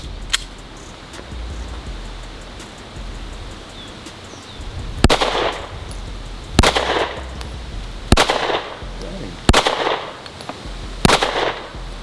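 Springfield Echelon 4.0C compact pistol fired outdoors, five sharp, loud shots spaced roughly one to one and a half seconds apart, plus a fainter earlier crack, over low background noise.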